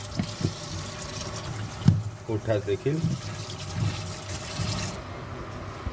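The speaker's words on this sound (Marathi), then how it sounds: "लिव्हर आपण स्वच्छ पाण्याने नीट धुवून घेणार आहोत." Chicken liver and pota are rinsed under clean running water in a home kitchen, a soft continuous splash and trickle with a few brief clinks, while someone talks over it.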